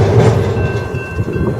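A train passing close by, loud rumbling roar with rattling wagons and a steady tone, continuous for the whole stretch with no voices.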